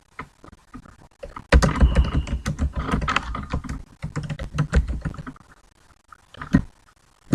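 Typing on a computer keyboard, a dense run of close, clattering keystrokes that builds into a fast flurry, then thins to scattered taps.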